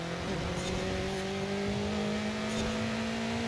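A BMW M8 GTE race car in Forza Horizon 5 drones at sustained high revs, a loud, steady engine note with a gradually climbing pitch and no talking.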